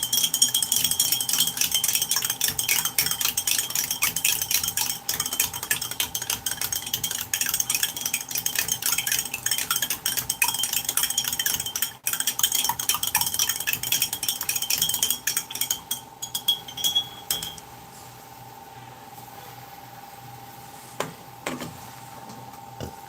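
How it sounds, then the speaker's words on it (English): A utensil clinks and rattles against a glass while stirring MRE drink powder into liquid, quick repeated ticks that thin out after about fifteen seconds into sparse taps and quiet. "I'll give it another stir later, so that's what I'm doing now."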